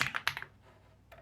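Computer keyboard typing in a short burst of close clicky keystrokes, then a brief pause and a few more taps near the end, with no talking.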